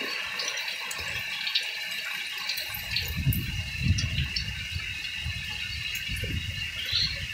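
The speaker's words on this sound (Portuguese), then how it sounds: "Agora tá chovendo à vontade mesmo. Começou a chover com força." Heavy rain pours steadily and water runs across the ground of a rural yard, a constant hissing wash with low rumbling gushes, with no talk.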